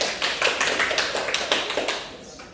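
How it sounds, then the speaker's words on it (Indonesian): A burst of hand clapping from a small class of children, quick and uneven, close by and fading slightly toward the end. "Beri tepuk tangan untuk temannya"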